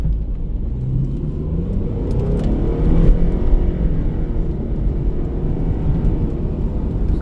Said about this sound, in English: That was not quite full throttle, but close to, and it gets up to the speed fairly efficiently